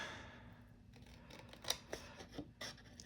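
Scissors snip through paper while a birthday card is being made, a few quiet, close, irregular cuts and crisp rustles over a soft background hum.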